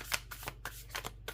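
A deck of tarot cards is shuffled in short, crisp riffling bursts, several quick rustling flicks close to the microphone.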